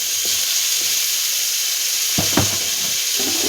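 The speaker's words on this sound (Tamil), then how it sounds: "இப்போ வதங்கிருச்சு, தக்காளியை போட்டுருவோம்." Tomatoes sautéing in a pan give a steady, close sizzle with a few louder bursts of crackle near the middle, where a spoon or ladle seems to stir them.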